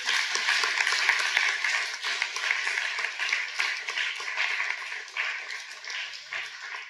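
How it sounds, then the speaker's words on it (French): A conference audience at a summer university event applauds, producing dense, steady clapping that holds for about seven seconds at a fairly loud level before easing slightly. No one speaks over it. "Oui, on peut les applaudir, tout à fait."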